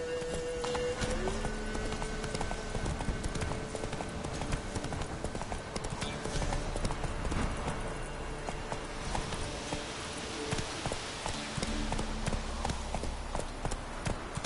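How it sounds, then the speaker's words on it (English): Horse hooves gallop steadily on the ground in The Witcher 3 game, a continuous rapid clip-clop that stays close and loud throughout over a bed of game ambience and music. "Whoa there, Roach. That's it, Roach."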